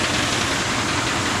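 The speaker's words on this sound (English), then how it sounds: "So this is the air purifier. So we'll turn this guy on." An air purifier beside a DTF curing oven runs with a steady, loud broadband whoosh of airflow, constant and unbroken, with no talking over it.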